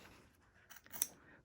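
Scissors snip through fabric while trimming around embroidery in a hoop for a zip bag, two or three quiet close-up cuts, the last one the sharpest, with no talking.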